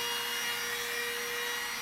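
Continuous abrasive rasping of wood being sanded, steady and close, with a faint mechanical hum underneath.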